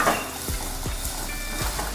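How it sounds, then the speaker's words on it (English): Chopped onions sautéing in a pan, a steady close sizzle and fry with a few soft stirring scrapes against the pan. "Saute them till they are translucent."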